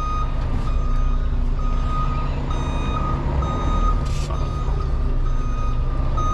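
A truck reversing alarm beeps in a steady, evenly spaced rhythm as the vehicle backs up in a truck parking area, loud and close over a continuous low diesel engine rumble.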